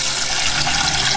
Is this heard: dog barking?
no